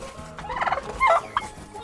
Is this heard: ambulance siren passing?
no